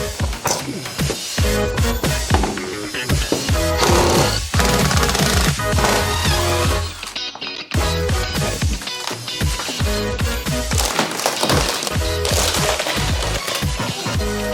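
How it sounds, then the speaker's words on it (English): Rubber flooring ripped up from a transit bus during a gutting for tiny-house conversion: continuous loud tearing, scraping and knocking with repeated sharp cracks, dense and close throughout. "we are ripping off the rubber floor so we can try and get some of the screws around it off"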